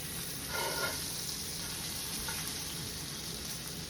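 A steak in a pan of butter sizzles and fries with a soft, continuous crackle, fairly quiet and steady, with a brief louder burst of sputtering near the start.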